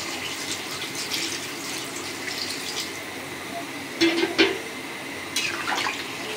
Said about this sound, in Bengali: এখন ঝোল দিয়ে দিই।